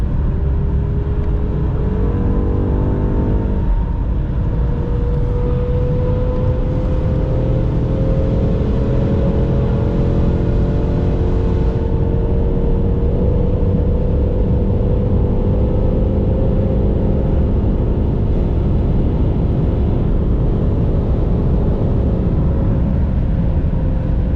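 A BMW M8 Competition cruises on the highway, its engine and road noise forming a constant loud drone with tones that rise and dip slightly as it holds speed.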